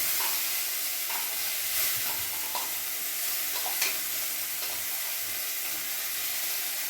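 Mustard, poppy seed and green chili paste hits hot oil left from frying rui fish in a Bengali kitchen, giving a steady broad sizzle with faint stirring scrapes and small pops, close and without talk.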